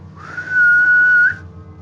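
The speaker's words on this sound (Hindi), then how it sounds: "कोई सीटी बजा रहा है।" A single sustained whistle rises briefly, holds one clear steady pitch for about a second, then slides off, loud and alone against a quiet background.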